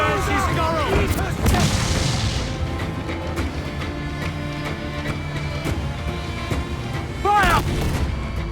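Ship cannons in Assassin's Creed IV Black Flag let off heavy booming shots during a naval battle, with several loud blasts and crashes while voices shout over the fight.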